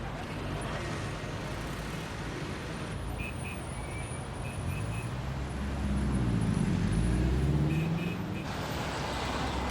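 City road traffic at night hums as a continuous broadband roar, with passing vehicles swelling louder midway and faint higher tones over the steady wash.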